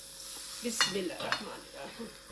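Masala frying in a pan and being stirred, with a soft continuous sizzle broken by a few scraping stir strokes against the pan, close and moderately quiet.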